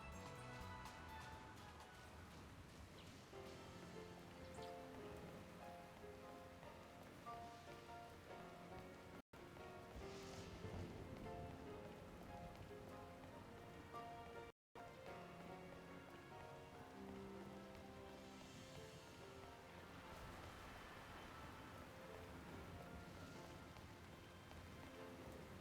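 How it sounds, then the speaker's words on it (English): Steady rainfall in the video game Pokemon Violet patters continuously throughout, blended under layered game music with no voices. "Oh, suck it up, it's just a little rain."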